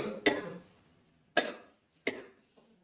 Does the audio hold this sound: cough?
yes